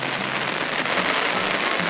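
Steady rain falls hard and close around a lakeside spot at Kawah Putih crater in Bandung, Indonesia, a dense continuous hiss with no voices.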